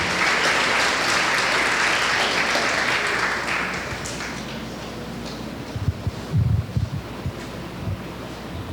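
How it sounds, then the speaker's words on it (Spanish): Congregation applause at a Sunday church service, dense and steady for the first few seconds, then thinning to a softer wash with a few low thumps near the end. "vamos a recibirle con un aplauso"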